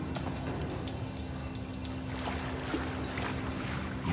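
Game character sloshing through shallow sewer water in Outlast, a steady run of soft splashes and wet footfalls close by, continuous over a low hum and dripping ambience.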